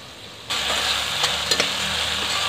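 Tomatoes simmering with spices in a kadai pan for a dhaba-style kadai paneer, a steady sizzle that starts abruptly and keeps on with a few soft clinks from the pan.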